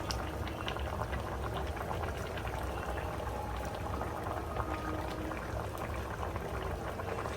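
Magur catfish curry with drumstick and other vegetables simmering in a pot on the stove, a loud, dense continuous bubbling boil that runs steadily throughout with no talk.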